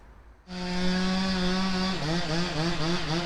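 A chainsaw roars to life and runs steadily at high revs, then its pitch dips and wavers repeatedly as it bites into a fallen tree.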